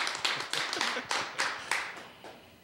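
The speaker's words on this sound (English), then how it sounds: "Let's give him a big round of applause for how amazing he is." Live audience applause for a featured poet on a cafe spoken-word stage, a steady run of clapping with crisp hand strikes that swells in bursts and then tapers off toward the end.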